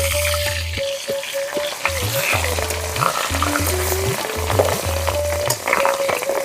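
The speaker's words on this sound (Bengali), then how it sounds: "ঢাকনা দিয়ে ঢেকে ঢেকে মাছের ডিমগুলো ভেজে নেব" Catla fish roe fries in oil in a pan that is covered with a lid between turns, producing a loud, continuous sizzle with repeated stirring scrapes and spatter close by.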